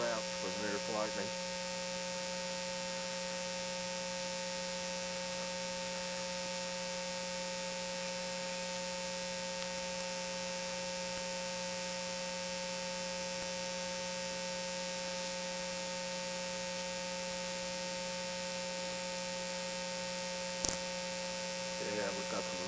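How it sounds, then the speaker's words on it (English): A VLF radio receiver picks up steady hum and whine tones, with a thick stack of constant pitched lines over faint static, lasting throughout with only brief crackles near the start and end. "we have the usual whines and tones in the background"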